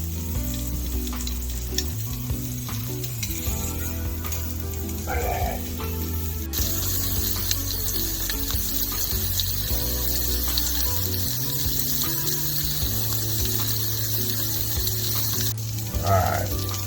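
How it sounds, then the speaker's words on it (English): Breakfast dogs fry in a pan with a loud, steady sizzle and crackle, close up, occasionally shifted or stirred, and a voice talks softly beneath. "I'm going to start getting one side of them cooking."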